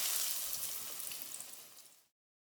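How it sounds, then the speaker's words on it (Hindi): Potato donuts frying in oil heated over low-to-medium flame, a steady bright sizzle with scattered small pops that fades and stops after about two seconds. "अब हम इनको फ्राई करते हैं।"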